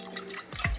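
Water running from a tap into a pan for pasta, outdoors at a camping spot, a brief near splash and trickle that builds slightly toward the end.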